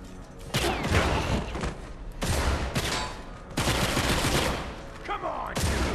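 Repeated shotgun blasts and heavy gunfire in the first-person shooter Dark Athena, loud close bursts in several clusters with booming tails, one after another across the stretch.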